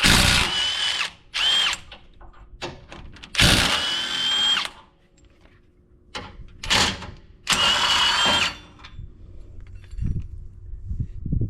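A power tool whirs in short, loud bursts while removing 18mm head bolts from the tow hook on a JK Jeep bumper, with several sharp spurts separated by quiet gaps and a clatter near the end.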